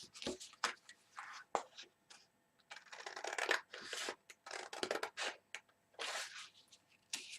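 Scissors snip cardstock pieces off opposite sides of a handmade gift box, a run of crisp, close cuts and paper rustles in quick bursts, with no talking.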